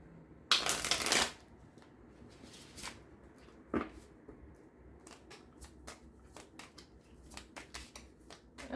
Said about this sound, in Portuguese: Tô embaralhando e tô olhando aqui pra carta